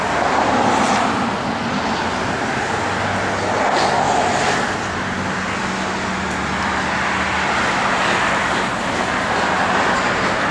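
A 1979 Chevrolet Corvette with T-tops driving down the road, heard from inside as a steady broadband road and engine roar with mild swells in loudness, no talk.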